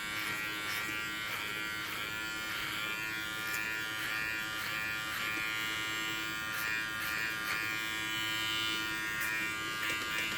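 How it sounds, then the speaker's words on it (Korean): An electric hair clipper hums continuously while cutting a man's hair into a Korean-style sports cut, a steady close buzz with small clicks and rasps as the blades pass through the hair. "빗하고 클리퍼랑 같이 연결해서 똑같이 90도로 90도까지 끝까지 가시는 거예요"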